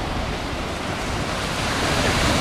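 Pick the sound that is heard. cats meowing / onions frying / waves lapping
waves lapping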